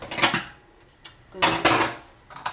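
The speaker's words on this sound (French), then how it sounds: "Prendre ma cuillère." A metal spoon picked up and clattering among dishes in a kitchen, a few close, bright clinks and scrapes in short bursts separated by quiet gaps.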